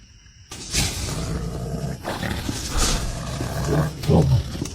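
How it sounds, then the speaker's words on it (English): A bear's deep, rough roaring comes in a few heavy bursts with breathy growls between them, loud and close. "that sounds like a bear, like for real"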